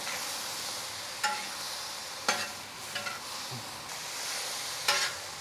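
Beef fajita strips and green onions sizzling on a Kamado Joe grill, stirred with a few sharp utensil scrapes over a steady frying hiss, close and moderately loud, no talking.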